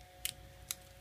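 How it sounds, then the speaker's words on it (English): Scissors cut open a small washi tape package: two quick, crisp snips about half a second apart, close and quiet in a still room. "Get a scissor."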